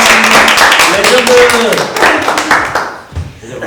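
Audience clapping and cheering for house dancers after a live jam session, loud and dense at first and then thinning out, with voices and a shout over it.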